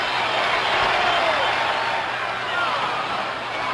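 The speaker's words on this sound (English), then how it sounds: "Listen to that crowd." A packed Fenway Park crowd roars at the 1975 World Series Game 6 between Cincinnati and Boston, tied late in the game, a broad sustained wash of cheering and applause at a distance, steady throughout with no clear voices.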